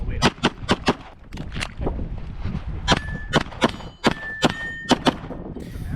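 A string of sharp, loud gunshots fired in quick bursts and spaced pairs on a USPSA practical shooting stage at paper and steel targets, close and echoing, with a few clear pauses between strings.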